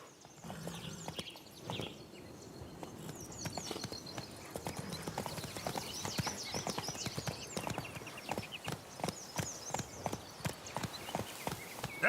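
Roach, the horse in The Witcher 3, trots with steady, rhythmic hoof clip-clops over continuous outdoor ambience, with faint bird-like chirps high above.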